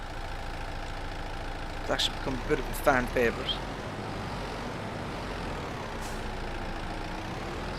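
A Kubota M5, a small vineyard tractor in Farming Simulator 22, idles with a steady, low engine drone while someone talks over it.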